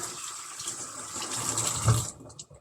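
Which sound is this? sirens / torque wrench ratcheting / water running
water running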